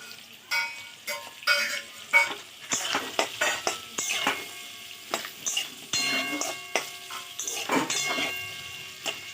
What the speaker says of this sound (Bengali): চলো গাজর আর কাঁচা লঙ্কা একেবারে দিয়ে দিলাম, কারণ গাজরটা ভাজতে